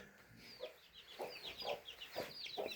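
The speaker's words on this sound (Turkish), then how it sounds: "Burada da paçalı horozumuz var" A feather-footed rooster gives a series of short, raspy clucks and chirping calls in quick succession, fairly close, with no talking.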